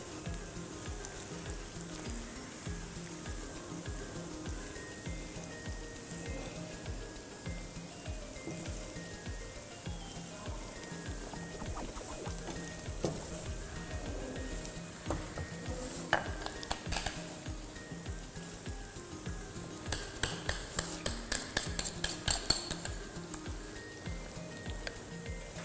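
Vadas frying in hot oil during Iftar cooking give a steady, close sizzle throughout, with scattered clinks of a metal utensil against the pan toward the end.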